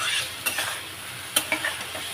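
Steady sizzling of food frying in a pan, with a few clinks of a spoon stirring against the pan, close up and without talk.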